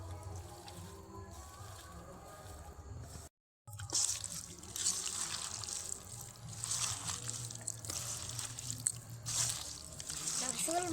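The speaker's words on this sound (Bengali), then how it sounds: "সমস্ত কিছু হাত দিয়ে ভালোভাবে মেখে নেব।" Chicken pieces squished and mixed by hand with spices and mustard oil, giving wet squelching and sticky dabbing sounds throughout, close up, with a voice talking over the mixing.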